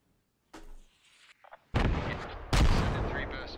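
Rocket fire lands on positions in Squad Ops: a short whoosh, then two loud, close blasts that roll out into rumbling tails, with a brief lull before the impacts.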